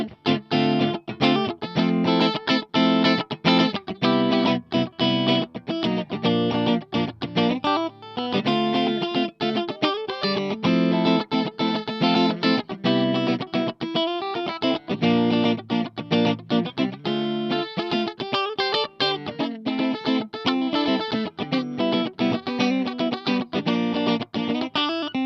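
An electric guitar is played with a clean tone through humbucker and single-coil pickup settings: a loud, continuous run of picked notes and strummed chords with no talking.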